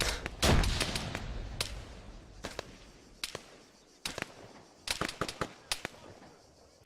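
A grenade explodes in Arma 3 combat, a loud blast near the start, followed by a string of sharp, distant gunfire cracks in irregular bursts.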